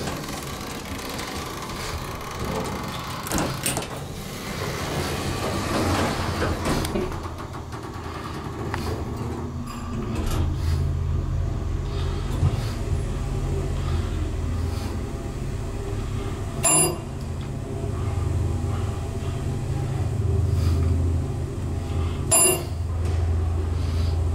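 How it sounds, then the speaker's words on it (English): A Dover traditional hydraulic elevator's motor runs steadily with a low, droning hum, joined by a few sharp clicks and clunks of the car and doors, with no talking. "that sounds like a Chewbacca sounding motor"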